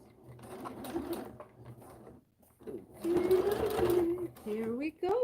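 Sewing machine stitching small stitches in a home sewing room, running in short bursts with a steady mechanical whir, louder in the second half, while people talk in the background.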